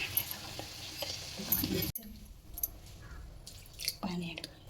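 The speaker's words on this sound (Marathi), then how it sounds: "आज तिला चांगले कांदा टोमॅटोमध्ये मिक्स फ्राय करायचे" Prawns fry in a pan with onion and tomato, giving a soft sizzle with occasional stirring scrapes and a brief clatter. The frying sits close but quiet and is broken by a short gap.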